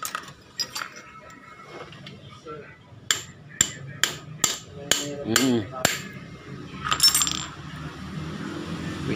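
A hammer strikes a socket during an overhaul of a Honda Rouser 135 motorcycle: a series of sharp metallic blows, some spaced and some quick, with clinks and tool rattles in between and faint background sounds.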